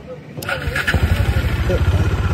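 A Bajaj Dominar 400 motorcycle with a weak, nearly dead battery starts up on the road: a brief starter whir, then the engine catches into a loud, close, pulsing idle while people talk nearby.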